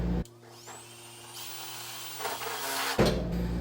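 A power drill whines steadily for a few seconds, rising slightly in pitch as it bites into a car hood for hood pins, then cuts off abruptly.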